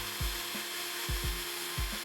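Wet-and-dry sandpaper rubbed by hand over small rusty diecast toy axles from a Matchbox Commer pick-up: rhythmic back-and-forth scrubbing strokes, about five in two seconds, close and fairly quiet.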